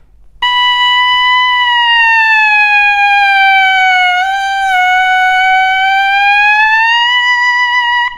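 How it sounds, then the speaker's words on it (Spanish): A long, steady wind-instrument note played with a fully relaxed embouchure, held for several seconds, bright and harmonically rich, with a slight dip in pitch midway before it levels out again. "hacer una nota larga y una vez que está estable, relajar al máximo la embocadura"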